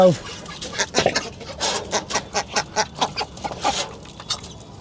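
Farm hens cluck while being fed, with a rapid string of close, rhythmic clucks and calls that pulse steadily through the scene.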